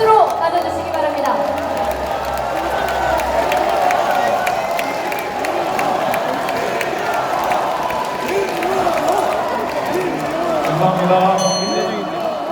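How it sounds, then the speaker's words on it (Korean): A crowd at a Democratic Party convention in Jeonbuk applauds and cheers as a speaker is welcomed, with steady dense clapping and some shouts through the whole stretch and a voice over the sound system near the end. "큰 박수로 맞아주시기 바랍니다."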